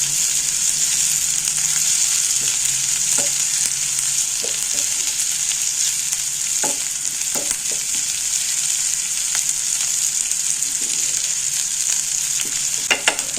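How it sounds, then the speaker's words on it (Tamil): Onions and curry leaves sauté in a pan for a Tamil kara kuzhambu made without tomato, giving a steady close sizzle with scattered soft scraping stirs throughout. "கருவேப்பிலை இதெல்லாம் போட்டு நம்ம நல்லா வதக்குவோம்."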